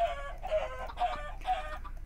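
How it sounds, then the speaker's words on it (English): Blocky chicken clucks from the game Minecraft, three short bursts of clucking spaced about half a second apart over a faint low background, no talk. "Oh boy, stupid chicken."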